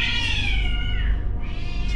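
Cats fighting at night, loud yowling caterwauls and drawn-out meows, close and continuous throughout with no talking.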